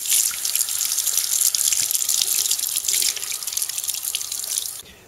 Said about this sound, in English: you just wash it in soapy water.